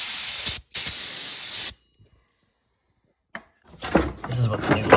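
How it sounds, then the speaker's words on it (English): Brake cleaner sprays onto engine pulleys of a 2011 Honda Odyssey in two close, sharp hissing bursts, then a short silence, with someone talking afterward. "I'm going to clean off the pulleys with the brake cleaner"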